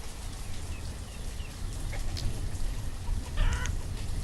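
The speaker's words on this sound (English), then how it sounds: "We're almost to maximum chickens." Chickens clucking in the farming game Banished, several short clucks scattered over a soft rumbling ambient bed, with a louder cluster of calls near the end.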